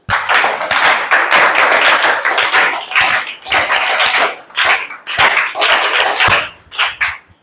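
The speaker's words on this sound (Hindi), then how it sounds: "जो क्षेत्रफल बताइए उसके लिए हम 3 तालियां लगाएंगे" Schoolchildren in a classroom clap in loud, close bursts of rhythmic patterned claps, several short rounds separated by brief pauses.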